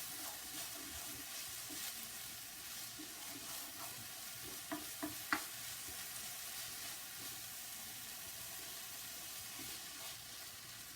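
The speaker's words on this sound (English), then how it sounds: "I just love the smell of cooking onion." A large batch of onions fries in a pan with a faint, steady sizzle and hiss, broken by a few soft stirring clicks and scrapes near the middle.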